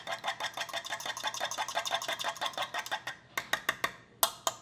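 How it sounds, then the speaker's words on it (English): A whole egg for scrambling is whisked briskly in a bowl, producing a rapid, steady run of close tapping clicks that slows into a few spaced final taps. "All I'm gonna do is whisk it up."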